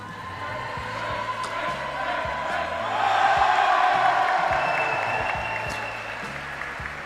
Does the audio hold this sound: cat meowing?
no